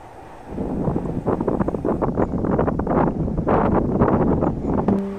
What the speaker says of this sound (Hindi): एक हल्की सी हवा चली जिसने मुझे होश में ला दिया।